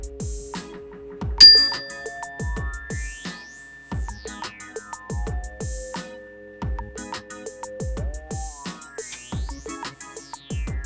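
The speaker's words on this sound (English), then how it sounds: "let me give you a bell here." A bell rings several times over a backdrop of electronic tones and sweeping synthesized notes, bright metallic strikes standing out clearly, close and moderately loud with no talking.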